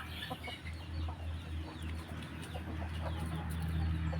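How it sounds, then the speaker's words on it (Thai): A young male chicken, a cockerel under two months old, clucks repeatedly in short, close calls over steady low farmyard noise, with no one talking. "เป็นตัวผู้นะครับ เป็นลูกไก่อายุประมาณไม่เกินสองเดือนนะครับ"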